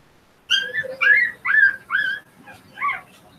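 Puppies whimpering up close, a run of four or five high, whistly whines in quick succession, then a pause and one more plaintive cry, with no talking over them.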